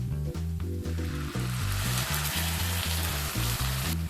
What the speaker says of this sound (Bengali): হালকা সোনালি কালার করে পেঁয়াজ ভেজে নেওয়া হয়ে গেলে এর মধ্যে বেটে রাখা মশলাটাকে অ্যাড করে দিতে হবে